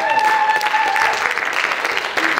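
A church congregation claps and acclaims God in a continuous burst of applause and crowd noise, with a sustained tone or voice running under it.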